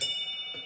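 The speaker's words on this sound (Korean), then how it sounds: "여러분 이 종소리 한번 들어보실래요?" A small hand bell rung inside a church, giving a steady sustained ring with a bright high tone that carries and slowly fades over a short moment, with no voices.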